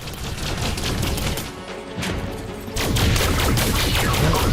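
Dense rapid gunfire rattles loud and continuous in Elite Dangerous, a space combat video game, with a short lull before the barrage resumes even heavier.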